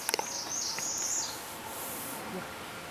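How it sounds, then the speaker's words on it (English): A mother bird calls near her nest outdoors with thin high chirps, a quick burst at the start followed by a longer faint trill. Soft background hiss runs throughout. "see, you hear that bird?"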